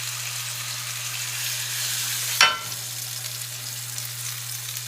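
A ribeye steak searing in a hot pan gives a steady broadband sizzle under a low constant hum, with one brief louder burst of spitting fat midway, close and alone without voices.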